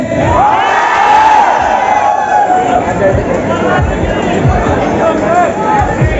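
A dense crowd of students at Lovely Professional University fills the air with loud cheering and excited shouting, a constant roar of overlapping voices close by for the whole stretch.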